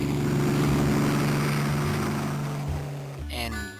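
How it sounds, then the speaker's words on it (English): Low droning engine hum of an airplane, steady and fairly loud, fading slightly before a brief higher whine near the end. "This is an airplane."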